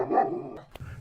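Two large white dogs, likened to polar bears, bark in a Japanese audio drama, a short burst of close, loud barking followed by a brief yip.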